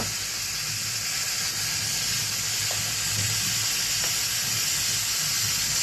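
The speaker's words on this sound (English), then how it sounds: "we are venting. I know you can hear it, but you probably can't see it." Steady hiss of steam venting continuously from a Presto electric pressure canner canning black beans, loud and unbroken throughout.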